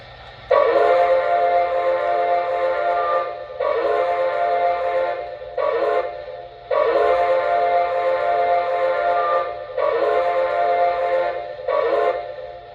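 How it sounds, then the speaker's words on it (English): A Lionel model train engine sounds its whistle in long, loud, low chord-like blasts, four or five sustained tones separated by brief pauses, close and clear with a faint hum beneath. "this is an amazing whistle that I wish Lionel would bring back someday"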